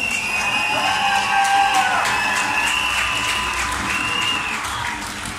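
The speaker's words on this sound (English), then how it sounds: "by a round of applause to our brothers and sisters in Christchurch" A large crowd at a London St Patrick's Day gathering applauds in solidarity with Christchurch, dense steady clapping mixed with cheers and whoops, loud and sustained throughout with a faint whistle-like tone running through it.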